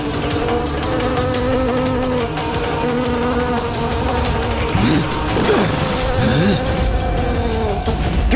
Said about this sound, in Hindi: ये भिनभिनाहट जैसे असंख्य कीट एक साथ ध्वनि उत्पन्न कर रहे हैं